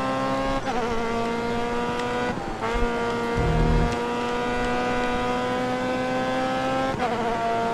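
Race car engine in the Grid Autosport driving game, roaring steadily at high revs with clear rising harmonic whine, briefly dipping at gear changes or lifts around three points before surging back, loud and close with no talk.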